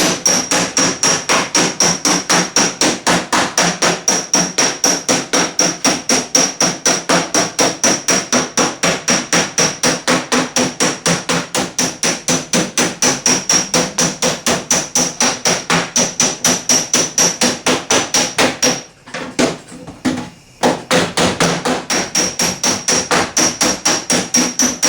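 Rapid, steady hammer blows ringing on metal body panel held against a dolly on a 1979 Trans Am, dozens of sharp metallic strikes in a fast even rhythm, loud and close, with a brief pause near the end.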